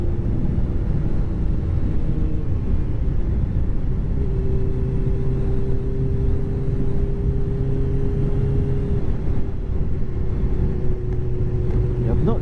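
A motorcycle filters through road traffic, its engine a steady, close droning rumble with a sustained tonal hum throughout, and no pauses or breaks.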